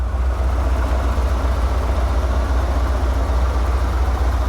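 A big Dodge ramp truck engine idles steadily with a deep, even low rumble, close and continuous, no talk over it and the air compressor not running.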